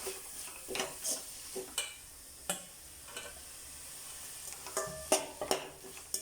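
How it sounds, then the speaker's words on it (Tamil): A spatula stirs carrots into frying koththu chapathi in a pan, a series of sharp scraping and clinking strokes at irregular intervals over a faint sizzle, close and alone. "அடுத்தது கேரட்டை சேர்த்து நல்லா கிளறி விட்டுக்கணும்"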